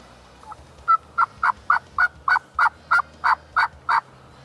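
Wild turkey gobbling in a rapid run of about ten sharp, evenly spaced calls, fairly close and clear over a quiet outdoor background, with no talk.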